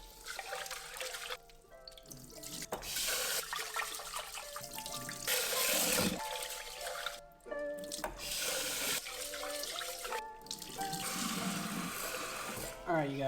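Rice is rinsed under a running kitchen tap for a braised catfish meal, with water splashing and swishing in bursts as the grains are stirred and the rinse water is poured off, close and fairly loud.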